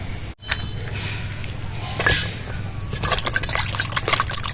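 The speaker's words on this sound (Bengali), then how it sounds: "প্রথমে বেগুনটাকে ভালো করে ধুয়ে নিচ্ছি বেগুনটা কত সুন্দর কচি" A tender eggplant is rinsed by hand in water in a home kitchen, giving a steady wash of splashing and trickling with brief drips, close and moderately loud, no talking heard.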